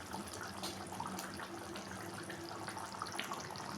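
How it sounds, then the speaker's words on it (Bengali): Rose water pours into a simmering pot of paneer rezala, a steady soft liquid trickle and bubbling that stays even throughout. "এখন আমি এটার মধ্যে মেশাবো একটুখানি গোলাপ জল"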